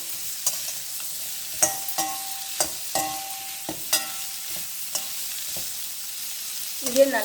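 Whole black peppercorns and coriander seeds being dry-roasted in a pan for prawn gravy: sharp, irregular scraping clicks of a spoon stirring, with a faint rattle and light sizzle between strokes.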